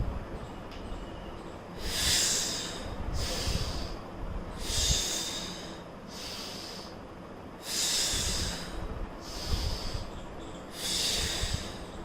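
Deep, rhythmic breathing during a stretching exercise for the glutes, with about six loud, hissing breaths alternating inhale and exhale at a steady pace, close to the microphone, with no talking.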